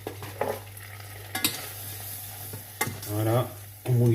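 A spoon scrapes and stirs a thick cornstarch paste in a pan over heat for bolognese lasagne, with soft sizzling throughout and a few sharper knocks and scrapes against the metal.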